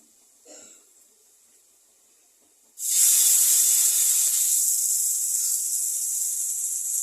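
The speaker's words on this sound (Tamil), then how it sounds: "தோசைக்கல்லில் மீன் பொரிக்கும்போது அதனோட டேஸ்ட்டே வந்து வேறு லெவல் தான்" After a short quiet stretch, a loud, sudden sizzle erupts as fish hits a hot dosa griddle, then settles into a steady, intense hiss.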